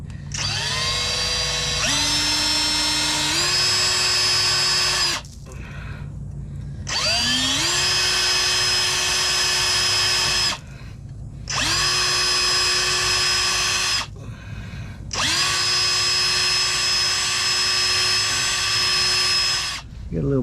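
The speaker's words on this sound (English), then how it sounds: "Let me get it in the drill here." A power drill spins a .22 gun barrel brush in four long bursts, each a loud, steady high whine that holds pitch, briefly drops, then revs again, with short pauses between runs.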